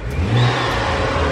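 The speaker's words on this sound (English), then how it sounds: "Give it a few revs." A BMW 135i fitted with a new intake revs up and holds a loud, steady engine drone close by for just over a second, with no talk over it.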